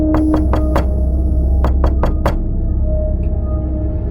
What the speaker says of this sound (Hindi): तभी आधी रात को मेरे घर के दरवाजे पर किसी ने दस्तक दी।